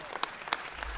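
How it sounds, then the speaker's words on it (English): Audience applause at a city council meeting, a short burst of scattered claps with a few sharp, distinct hand strikes standing out, fairly close and with no voices. "let's give a round of applause"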